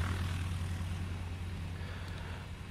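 An aircraft engine runs steadily at a planespotting spot in Germany, giving a loud, constant low drone and broadband roar with no pauses and no talk.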